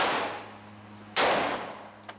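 Two loud gunshots ring out close by at an outdoor shooting range. The first is fading away as the clip begins, the second fires sharply about a second later and echoes out, and a small crack follows soon after.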